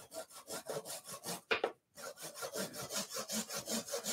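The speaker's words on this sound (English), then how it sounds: "just cut a flat so I can drive a piece of timber with my nice little trim saw." A small hand trim saw cuts a flat on a piece of timber with quick, steady back-and-forth strokes. The strokes stop briefly and then resume, heard fairly close but soft, with no speech.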